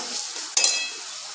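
Spice masala frying in reddish oil gives a soft, steady sizzle, and a single sharp scrape or clink of the stirring spoon cuts through partway, close and brief.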